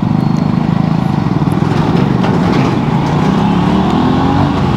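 An Aprilia RS457 single-cylinder sport motorcycle accelerates hard at high speed, its engine a loud, continuous drone with rising pitch, heavy wind rush and no voices.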